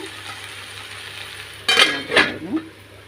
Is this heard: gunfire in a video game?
no